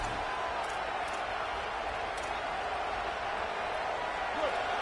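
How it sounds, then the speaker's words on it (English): Steady roar of a stadium crowd in a college football video game, Georgia Tech versus Georgia, a dense continuous wash of noise with no individual voices standing out. "This crowd bringing the energy and noise early."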